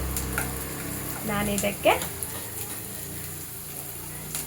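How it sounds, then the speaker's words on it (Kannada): Onions fry in a pan for egg gravy, giving a soft sizzle with a few stirring scrapes and utensil clicks, heard faintly under a person speaking. "ಇದೊಂದು ಸ್ವಲ್ಪ ಈರುಳ್ಳಿ ಕಲರ್ ಬರೋವರೆಗೂ ಫ್ರೈ ಮಾಡ್ಕೋಬೇಕು"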